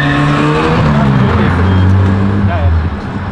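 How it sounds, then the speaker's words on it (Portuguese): Volkswagen Golf GTI tuned for pops and bangs accelerating hard in front of police, a loud, close engine drone with rising harmonics, a brief squeal near the end, and voices over it. "sai cantando pneu na frente da polícia"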